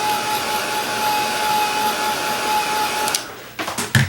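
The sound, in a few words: dryer blowing air to dry acrylic paint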